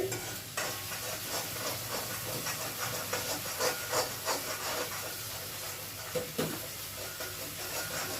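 Ginger paste frying in a pan for a prawn tomato curry, a continuous close hiss and sizzle with scraping stirs throughout.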